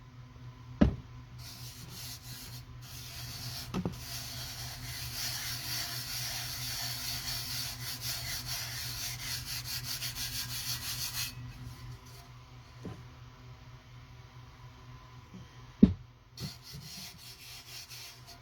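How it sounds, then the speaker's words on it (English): Color fill being rubbed gently onto a tumbler, a soft continuous scrubbing hiss lasting several seconds, then fading, with a few sharp taps and knocks scattered throughout, close and quiet. "I'm not pressing down hard. I'm just gently rubbing."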